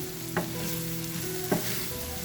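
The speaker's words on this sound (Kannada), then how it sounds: "ಈಗ ಸ್ಟವನ್ನು ಆಫ್ ಮಾಡಿ ನೀಟಾಗಿ ಮಿಕ್ಸ್ ಮಾಡ್ಕೊಳ್ಳೋಣ" Capsicum tossed with roasted gram powder in a pan, stove off, gives a soft residual sizzle with two distinct scraping spoon strokes against the metal.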